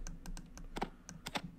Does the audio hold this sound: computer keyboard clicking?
yes